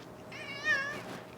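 A single drawn-out indoor meow from a house cat, rising and falling over about half a second and fairly close against a quiet background.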